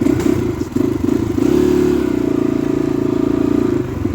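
A motorcycle rides across the India-Nepal border, its engine a steady, close drone with a rhythmic thrum that swells around the middle and holds for about four seconds, with faint clatter and no talk.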